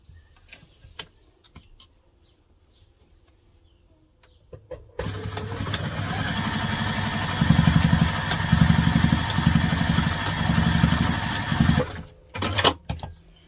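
A sewing machine stitching across a crosspack bag, a steady fast mechanical whirr running for about seven seconds with slight speed surges, bracketed by a few soft clicks and handling noises before and after.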